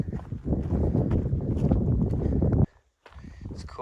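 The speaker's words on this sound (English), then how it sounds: "A little windy all of a sudden." Strong, steady wind buffeting the microphone on a Pacific Crest Trail descent for a few seconds, breaking off abruptly, then gusting back in more faintly.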